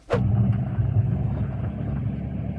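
A 2023 Mercedes-AMG C63 S E-Performance drives through a city pedestrian zone, its engine giving a steady, loud low rumble that holds throughout after a brief sharp onset.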